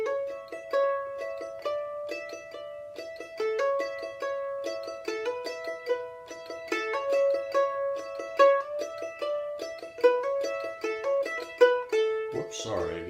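The folk tune Bile Dem Cabbage Down played as a beginner melody with hammer-ons, a steady stream of bright plucked notes in quick succession, clear and close, with no talking.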